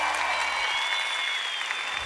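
Studio audience applause greets a singer on the Beyaz Show, a dense, steady wash of clapping at moderate level that holds for the whole stretch with no talk over it.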